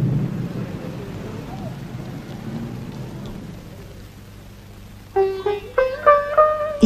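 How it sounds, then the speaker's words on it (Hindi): Rain falls steadily with a low rumble of thunder, the storm sound fading after a few seconds before a brief tonal passage takes over. "लगता है बारिश हो।"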